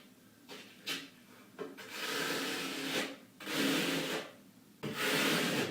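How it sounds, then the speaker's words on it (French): Scraping away excess material during bathroom work, a rough rubbing scrape repeated in several strokes of about a second each, close and fairly quiet, with short pauses between strokes. "Bien gratter l'excédent."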